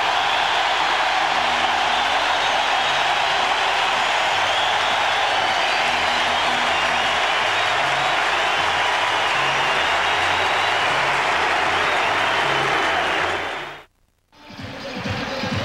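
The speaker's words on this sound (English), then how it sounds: "Listen to this crowd. They love this guy." Baseball stadium crowd at a Yankees–Rangers game cheering for Mariano Rivera, a sustained roaring wash of applause and voices that holds steady for many seconds before cutting out abruptly near the end.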